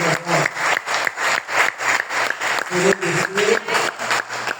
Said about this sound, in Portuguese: Dê uma salva de palmas para todos.